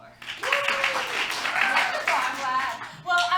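An audience at an improv comedy show gives a round of applause, a steady wash of many hands clapping that swells briefly and blends with voices.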